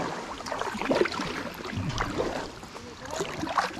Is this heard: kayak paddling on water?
yes